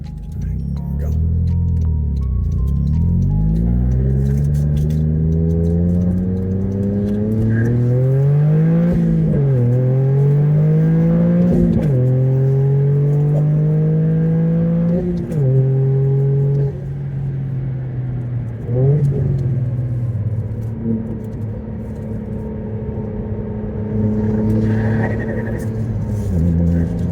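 A Toyota GR Corolla accelerates hard on an open road, its engine note climbing repeatedly through several gear shifts with a low rumble underneath, close and loud throughout.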